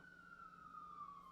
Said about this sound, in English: Got 2 sirens already.